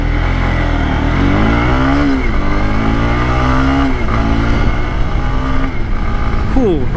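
A Honda CB150X motorcycle accelerates through the gears on the road, its engine loud and steady with rising pitch sweeps at each shift, under continuous wind roar, with a rider talking over it.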